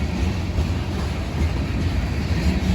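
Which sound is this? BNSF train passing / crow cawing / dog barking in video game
BNSF train passing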